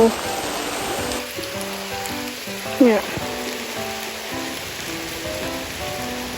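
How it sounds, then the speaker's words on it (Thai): Rain falling on surfaces outdoors near a mountain rubber plantation, a steady broad hiss throughout, with someone talking over it and a brief louder knock near the middle. "ฝนมาเลย"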